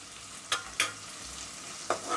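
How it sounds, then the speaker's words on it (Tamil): Tomatoes sautéing in a pan for vatha kuzhambu with sundakkai vathal, a soft steady sizzle broken by three sharp scraping stirs of a spatula, close and moderately quiet with no talking. "இப்போ தக்காளியும் கொஞ்சம் வதங்கிக்கிட்டோம்."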